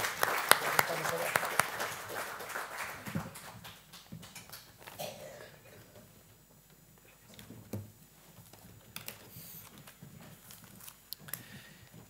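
Brief applause for departing panel speakers at a forum on drought, loud and dense in the first few seconds, then fading into scattered claps, shuffling and room noise.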